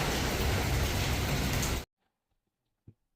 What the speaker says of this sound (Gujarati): વરસાદ ધીમે ધીમે ચાલુ થઈ ગયો છે.